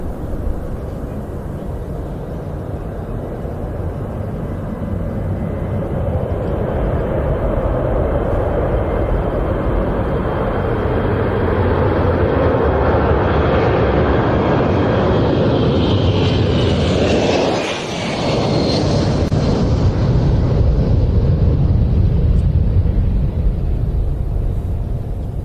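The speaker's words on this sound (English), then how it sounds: "this C-17, which is now rolling for takeoff." C-17 military transport rolls for takeoff at an air show, its jet roar swelling from a distant rumble to a loud, rising whine and peaking as it passes close, then staying loud as it climbs away.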